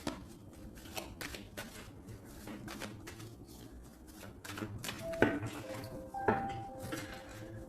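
A tarot deck being cut by hand, a run of soft dry card clicks and riffles at close range, with a couple of brighter taps and light handling noise toward the end.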